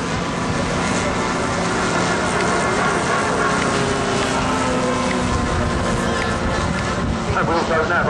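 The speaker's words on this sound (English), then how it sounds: "Got another aircraft coming up." A radio-controlled model aircraft flies at the 2008 Hastings model airshow, its engine a loud continuous drone that holds steady throughout, with a voice talking over it.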